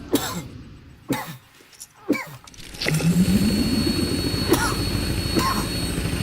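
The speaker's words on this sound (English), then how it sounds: "Apologies for the cough." Several harsh coughs and throat clearing close by, then a loud jet engine roar takes over and continues steadily.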